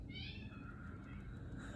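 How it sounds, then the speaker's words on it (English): Cats screaming and fighting indoors: a drawn-out, wavering yowl, faint and somewhat distant, over a low background rumble. "My cats are screaming and fighting each other right now."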